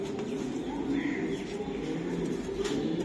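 A racing pigeon coos steadily up close over a constant background murmur, with a voice faintly present.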